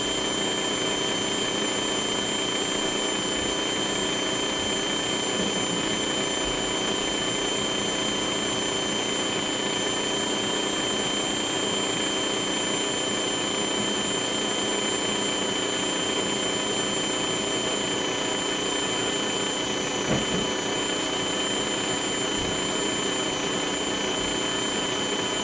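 Tyco 440x2 slot car motor running on a dyno, a steady high-pitched electric whine that holds constant and loud throughout with no pauses.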